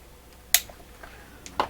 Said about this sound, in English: That's the sound of the wire being snipped.